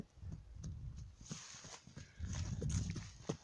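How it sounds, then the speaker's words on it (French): Horse hooves clip-clop at a walking pace during a short ride across a field, muffled and fairly close, with rustling and soft breathing mixed in. "Petite balade à cheval."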